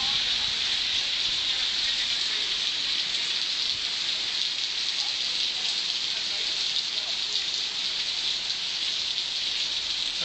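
Steady, dense hiss of rain falling without pause in Mallorca, loud and close, with no voices over it.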